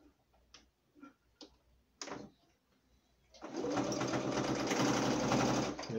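A domestic sewing machine sews a reverse stitch on a patchwork cotton dish towel, a steady loud close-up whir that runs for several seconds after a few faint clicks and taps. No one speaks.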